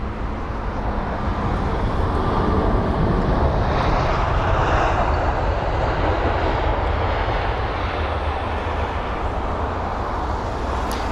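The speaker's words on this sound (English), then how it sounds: "This is the last arrival for runway 27 right actions." A Finnair Airbus A320-200 lands on runway 27R at London Heathrow, its engine roar broad and steady and fairly close, with no voices.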